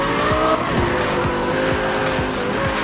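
Racing video game car sliding with tires squealing from heavy e-brake use, engine revving through repeated gear shifts, loud and continuous with no talk.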